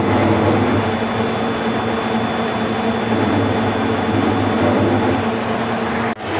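A large metal workpiece is drilled on a lathe turning at reduced speed, giving a loud, steady machine drone with a constant tonal hum that runs unbroken before cutting off abruptly near the end.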